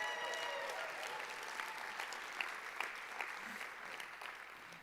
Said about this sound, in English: Can we all give a round of applause for Sara?